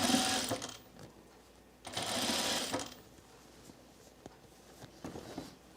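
A sewing machine stitches over the gathered fabric of a dress sleeve, running in two loud bursts of rapid needle whirring separated by quieter pauses filled with small clicks and handling noises.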